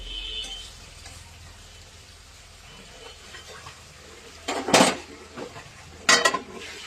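Lid set onto a cooking pot of soaking rice in a home kitchen, two sharp metallic clanks near the end after quiet background, no talk.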